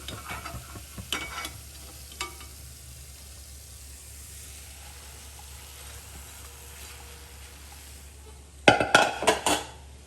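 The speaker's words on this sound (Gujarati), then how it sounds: "આ જ રીતના આપણે બધી જ પૂરીને તળી લઈશું" Oil bubbles and hisses softly as puris deep-fry, with a few sharp utensil clinks and a clatter of metal toward the end.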